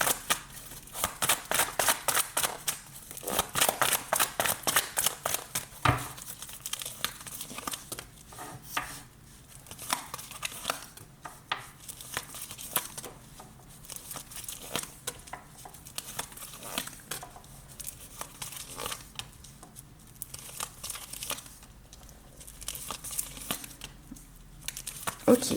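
Tarot cards are shuffled and drawn for a reading: crisp papery riffles, taps and soft slaps come in quick irregular bursts, louder at first and then scattered more sparsely, close to the microphone.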